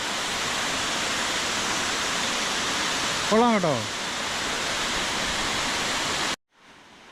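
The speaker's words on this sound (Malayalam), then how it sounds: "മരച്ചില്ലുകളുടെ ഇടയിൽ കൂടെ ആ വെള്ളം ഇങ്ങനെ ചാടി വരുന്നൊരു കാഴ്ച ഉണ്ടോ" Water at Vengathanam waterfall rushes down in a loud, steady roar filling the scene, with a short spoken remark heard over it midway before the sound cuts off abruptly near the end.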